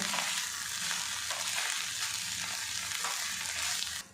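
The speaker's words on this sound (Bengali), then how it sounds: "আদা রসুন পেস্ট দিয়েছি, আরও কিছুক্ষণ নাড়াচাড়া করে নেব।" Ginger garlic paste sizzles steadily in hot oil with cauliflower while being stirred. The frying is close and constant, with faint scraping of the stirring and no talk.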